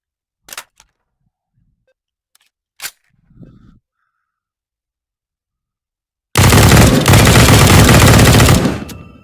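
Loud, continuous automatic fire from an M16 rifle in the VR shooter Hotdogs, Horseshoes & Hand Grenades, a sustained burst lasting nearly three seconds after a few isolated sharp clicks and thumps.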